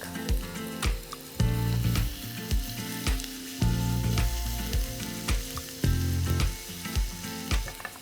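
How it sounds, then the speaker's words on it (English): Garlic frying in hot olive oil in a pan, a steady close sizzle with crackling bursts and a few louder surges as it cooks, no talking. "To this oil, I'm going to add garlic, loads of garlic."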